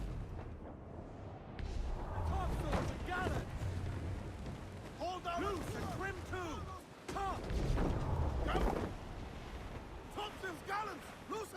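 Ship cannons boom in an Assassin's Creed naval battle on pirate vessels, with heavy low blasts and rumble behind shouted crew orders and constant wind and sea noise.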